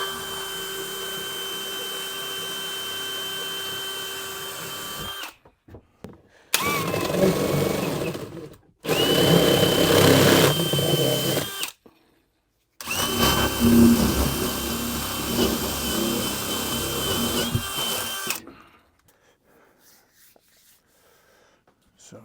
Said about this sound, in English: we're going to drill all the way through